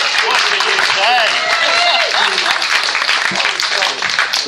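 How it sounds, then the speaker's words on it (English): Audience applause for performers at a venue in Liverpool, a loud, continuous wash of clapping throughout, with voices and cheering mixed in over it. "Give him another round of applause."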